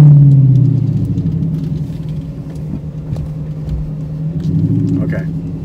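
A Dodge Demon in sport mode rumbles with a steady low engine drone after a brief fading rev at the start, close and loud, with people talking over it.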